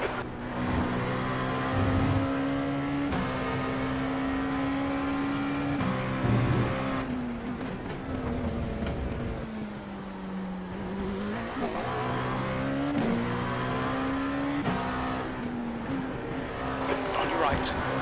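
A Dallara P217 prototype in an iRacing IMSA race at Laguna Seca: a steady, close engine drone that rises and falls through gear changes, with a spotter's voice talking over it.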